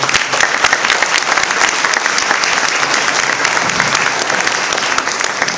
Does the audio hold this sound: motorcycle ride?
no